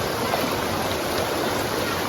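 Water near a waterfall at Mahkali Temple, Saravana, rushes in a steady, broadband roar, close and continuous through the short moment with no other sounds.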